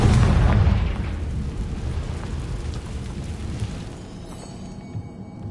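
A Confringo blasting-spell explosion in Hogwarts Legacy, opening with a loud, dense low boom that settles into a long rumbling, crackling decay over several seconds, no talk.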